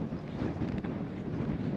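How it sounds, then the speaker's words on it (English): Strong wind roars steadily across the microphone on an exposed, bare rock mountainside, a dense continuous buffeting with no voices. "Look how windy it is."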